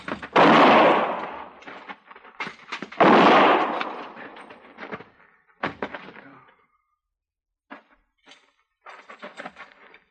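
Shotgun blasts in a vintage Western radio drama: two heavy booming shots a few seconds apart, followed by smaller knocks and thuds in an otherwise quiet scene.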